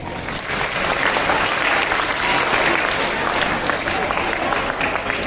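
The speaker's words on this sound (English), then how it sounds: "Once again, a big round of applause for all the participants." A school audience applauds participants at an English declamation contest, loud sustained clapping from a crowd filling the room, continuous and even throughout with no distinct speech.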